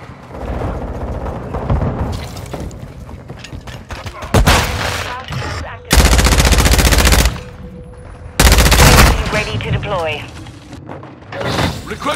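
Automatic and single gunfire bursts from Call of Duty: Modern Warfare in a Team Deathmatch match, loud and close, with several dense, sustained bursts of firing over a busy battle mix and occasional game voices.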